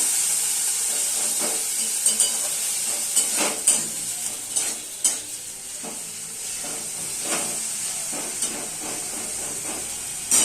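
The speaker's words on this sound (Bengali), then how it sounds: "শাকটা আমি কিছুক্ষণ একটু ভালো করে নেড়ে চেড়ে নেব।" Pea greens (koraishaak) are stirred in a hot frying pan, giving a steady close sizzle and hiss with scattered scraping clicks from the spatula throughout, and no voices.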